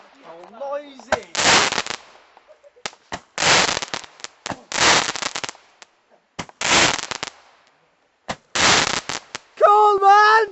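Several loud fireworks bursts crackle and boom close by in separate volleys over about ten seconds, with excited voices shouting between them.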